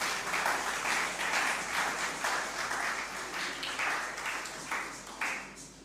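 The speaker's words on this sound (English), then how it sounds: "So just give me my clap now, please." Lecture audience applauding steadily, a continuous wash of many hands clapping at moderate distance that stays even throughout and eases slightly toward the end.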